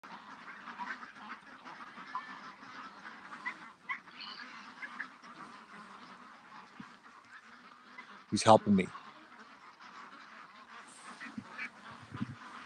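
Ducks quack in a brief loud burst near the middle, with a few fainter calls later, set against steady outdoor background noise and someone speaking.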